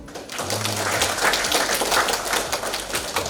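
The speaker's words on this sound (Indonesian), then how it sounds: "boleh tepuk tangan" An audience claps at a public lecture held at a state polytechnic, steady close applause with sharp individual claps, sustained throughout.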